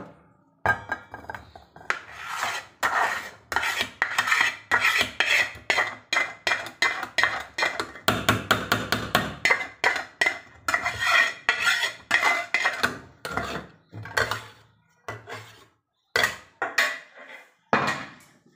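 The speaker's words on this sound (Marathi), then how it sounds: "आणि तो मी भांड्यामध्ये काढते, ह्या डब्यामध्ये काढते मी तो घाटा." Porridge scooped from a steel pot into a container, a long run of scraping, knocking metal strokes in an uneven rhythm, close and fairly loud, with brief pauses between scoops.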